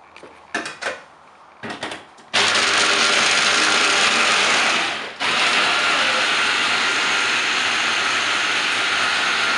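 Electric blender running on Indonesian gado-gado peanut sauce: a few short pulses, then a loud continuous whir close by that dips briefly midway and carries on steadily, no talking.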